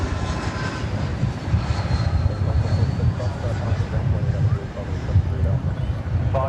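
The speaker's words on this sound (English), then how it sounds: "It's an Airbus A320, which diverted. It's on the move right now" A diverted Airbus A320 jet airliner taxiing at DFW airport, a steady engine drone and rumble with faint whine on top, continuous and fairly close.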